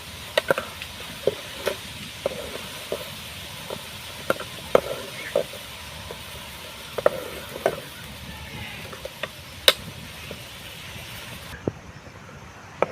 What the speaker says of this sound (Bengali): সাবানটা পুরোপুরি গলে গেছে এবারে এর মধ্যে আমি পেস্টটা দিয়ে দেব এইভাবে সুন্দর করে নেড়ে নেব